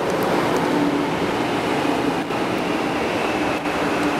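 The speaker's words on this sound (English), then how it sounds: "This is the bullet train." A steady, loud roar of a Shinkansen bullet train rushing along the rails in Japan, constant rumbling and hissing with brief dips, no voices.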